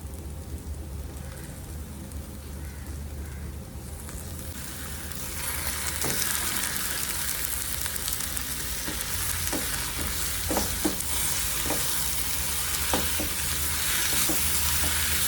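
Chicken pieces drop into a hot pan for a chicken curry and set off a loud, steady sizzle that fills the rest of the clip. A few sharp clinks of a utensil stir through the frying.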